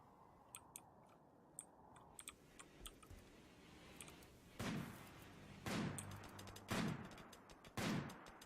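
Gunshots ring out during a muffalo hunt in the colony sim Rimworld: four spaced, sharp reports in the second half, preceded by soft clicking, fairly faint overall.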